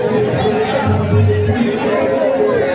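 A steady, loud hubbub of many overlapping voices rises from a jostling crowd at Ghutiyari Sharif shrine during the annual Urs festival, with a brief low rumble partway through.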